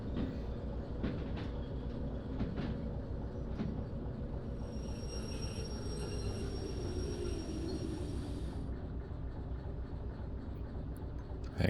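Locomotive rolling on rails in the Derail Valley train game: a steady rumbling clatter of wheels with occasional clicks, a high whine joining midway then cutting off, continuous and fairly quiet, no talking.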